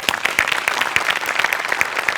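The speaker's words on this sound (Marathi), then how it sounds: "या वाक्यासाठी टाळ्या आहेत" Audience applause at a Marathi comedy show, a dense, steady burst of many hands clapping close and loud for a couple of seconds, with no talk over it.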